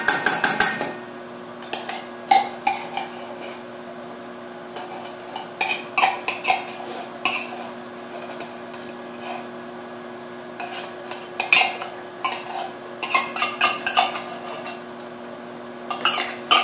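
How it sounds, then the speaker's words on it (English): A metal spoon scrapes and clinks against the inside of a can of cream of mushroom soup in a series of irregular close clatters and scoops, with quiet stretches between bursts. "so you go ahead and get a spoon and get that out of there"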